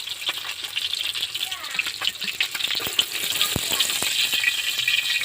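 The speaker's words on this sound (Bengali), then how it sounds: "এই যে কড়া করে একদম ভাজি করছি।" Fish fries crisply in a pan of hot oil, a loud close sizzle with spattering crackles and pops throughout.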